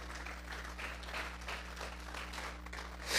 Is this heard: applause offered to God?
yes